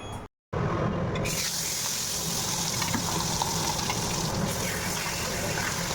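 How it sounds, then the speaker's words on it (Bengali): Two pieces of rohu fish sizzle in hot oil in a home kitchen pan, a loud steady hiss and crackle running continuously after a brief silent gap at the start. "দু পিস মাছ ভাজা করবো"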